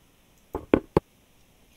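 Knocking on a door in the Minecraft video game: three sharp, close raps in quick succession, followed by the start of a fourth, each standing out clearly against near silence.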